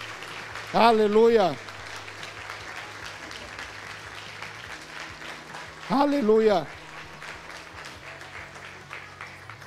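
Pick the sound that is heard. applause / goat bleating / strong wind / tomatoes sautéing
applause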